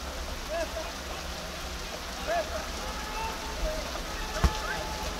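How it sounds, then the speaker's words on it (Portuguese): Steady rain hisses over an outdoor amateur football match in Mauá, 2022, between São Jorge F.C. and ABC, a constant close wash of drops with faint voices and a brief thump near the end. "Depois de tanto tempo, acho que é o primeiro jogo que eu filmo com chuva."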